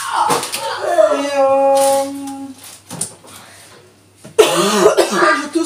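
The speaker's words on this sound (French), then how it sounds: "je tousse comme une rachitique." A woman coughs hard and clears her throat in a close, loud fit, voiced rasping sounds breaking off in short bursts and then starting again after a pause.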